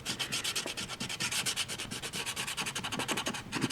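Fast rhythmic rubbing as paint is scrubbed off a scratch-built model footbridge, a steady brisk scratching texture, close and fairly quiet.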